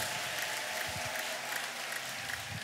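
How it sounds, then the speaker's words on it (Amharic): Congregation in a church applauding during a sermon, a steady wash of many hands clapping at moderate distance, fairly quiet and even throughout. "ለልታ ጭብጨባ ለኢየሱስ ይሁን"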